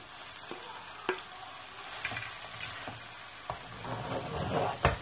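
Cooked pasta being gently stirred into a salmon sauce mixture with courgettes, giving soft scraping and wet stirring strokes over a faint low sizzle, with a few sharper utensil knocks against the pan, no talking.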